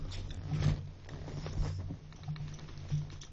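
A dog shifting and scratching right beside the microphone, giving soft close rustles and a few faint pattering bursts over a low background hum.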